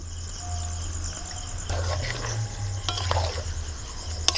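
Goat meat and spices being stir-fried in a pan at home, giving a steady low sizzle with scraping stirring strokes and a few sharper clinks near the end.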